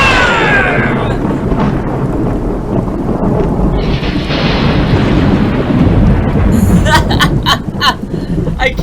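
A thunderstorm in a game: loud rumbling thunder over steady heavy rain, with sharp crackling strikes near the end, continuous throughout.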